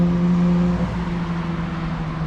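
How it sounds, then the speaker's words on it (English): A Ferrari sports car on a city street in Japan, its engine a steady low droning tone with a slight pitch dip as it moves past, heard from inside a nearby vehicle. "That is indeed a Ferrari"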